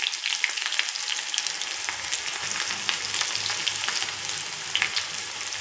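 Onion sizzling in hot oil along with garlic cloves and urad dal, a steady close crackling fry with soft stirring, no voices.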